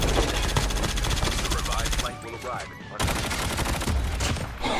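Pistols fire in a video game in dense, loud bursts of rapid shots that run almost without a break. The shooting stops briefly near the middle, then resumes just as heavily.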